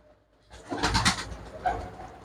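Pigeon cooing rises from faint background noise after about half a second, a soft throaty burst followed by a second coo near the end.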